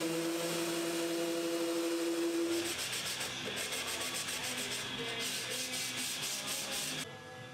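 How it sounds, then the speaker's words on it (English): Steady, continuous rubbing of sandpaper across a wooden cabinet front, easing its sharp edges, close and moderately quiet throughout with a slight drop near the end. "I sanded the front and eased over the sharp edges"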